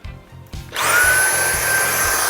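A Dyson V8 Fluffy handheld vacuum cleaner switches on after a couple of clicks and spins up to a loud, steady high-pitched whine with rushing airflow that continues to the end.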